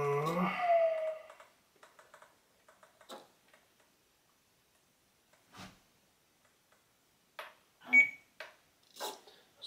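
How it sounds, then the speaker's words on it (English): Short, sparse beeps and ticks from a radio control transmitter during servo failsafe setup, faint and spaced irregularly in a quiet room, with a brief whine at the start. "So now the transmitter beep"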